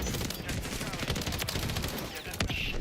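Sustained turret gunfire in the shooter XDefiant, a dense rapid stream of shots running through the whole stretch, close and loud, with faint game noise underneath.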